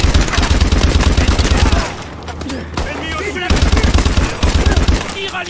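Loud, rapid bursts of automatic gunfire from the Call of Duty Advanced Warfare video game, a dense fusillade with a brief lull in the middle before the shooting resumes.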